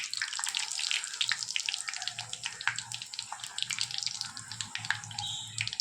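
Rava puris frying in very hot oil give off a dense, continuous sizzle and crackle of many fine pops, steady and fairly close, with no voices.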